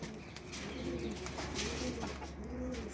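A female pigeon wearing a pink ring coos alone in several low, rolling phrases, close and fairly steady over a faint hiss.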